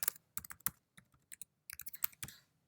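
A password goes in on a computer keyboard in quick bursts of close, crisp keystrokes, with brief pauses between runs.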